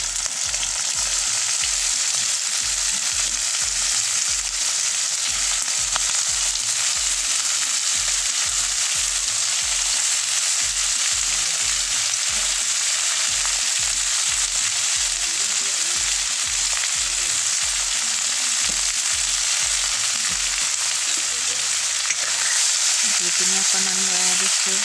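Chicken pieces frying in a pan with banana flower added, a loud, dense sizzle running continuously alongside a regular pulsing low thump, close and steady, with no talk.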